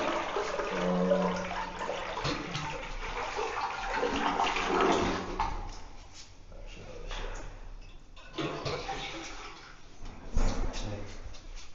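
Tap water running during a water test in a new house, a rushing splash that swells and fades in bursts, with people talking and other room noises around it.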